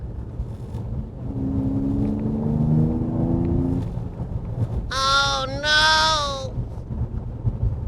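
A Mercedes-AMG CLS 53 in sport mode gives a steady, loud low engine drone with rising tones, then a brief pair of high, whining bursts near the end.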